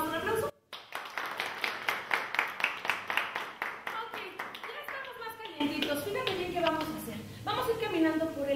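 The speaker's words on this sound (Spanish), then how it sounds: "Nos damos un aplauso." Workshop group clapping together after a movement exercise with students: a brief pause, then rhythmic, fairly evenly spaced claps for several seconds, followed by a voice and children talking over lighter clapping.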